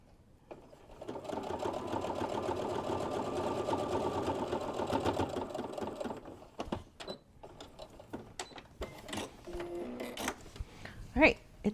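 A sewing machine hems an apron in straight lines, running steadily for several seconds before stopping, followed by clicks and handling noises with a voice speaking at the end.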